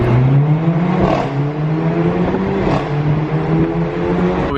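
A 380-horsepower Mercedes-Benz A45 AMG accelerates flat out through a tunnel. The loud engine note climbs in pitch and breaks at quick gear shifts, echoing off the walls.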